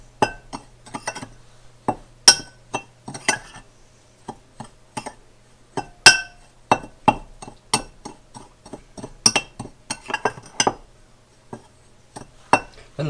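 Ingredients for a BLT salad stirred in a glass bowl, with a utensil clinking and tapping against the glass in quick, uneven strokes, close and fairly quiet, with no talking.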